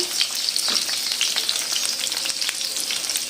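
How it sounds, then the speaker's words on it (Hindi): Edible gum (gond) frying in a pan at medium-low heat for moong dal halwa, a bright dense crackling sizzle with small pops, close and continuous with no talk. "अब मैं इसमें ये गोंद डाल दूँगी और जब तक ये फूलेगी"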